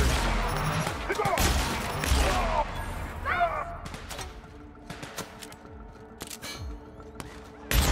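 Gunfire in the video game The Outer Worlds: scattered sharp shots and bursts, loud and close, some clustered in quick volleys, over a busy background of game noise.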